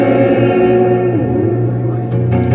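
A Strymon delay pedal set to triplet head spacing, sustained harmonic guitar tones with repeats stacking and smearing into a dense, continuous wash, loud and close throughout.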